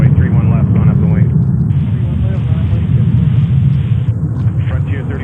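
A jet airliner rumbles loudly and steadily on a runway at JFK airport, a broad continuous roar close by with no breaks, under faint radio-style talk.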